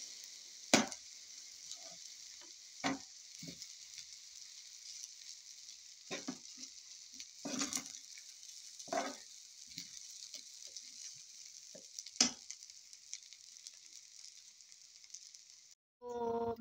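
Vegetable fried rice sizzles softly in a pan, with scattered scraping taps from a spatula stirring it at irregular intervals, quiet and close.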